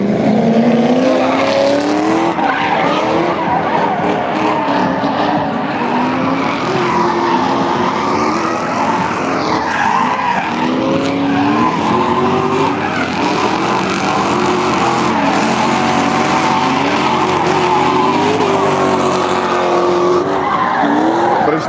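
Sustained tire skidding and engine roar from a drift car with a BMW M54 engine at a street drift league practice, loud and continuous, with shifting squealing tones throughout.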